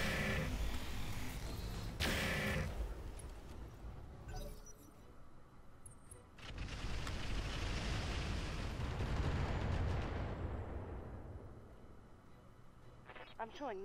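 Missile fire in the mech combat game Roguetech sets off a string of booming explosions and rumbling blasts, loud and dense, swelling and fading over a sustained barrage with a sharp burst near the start.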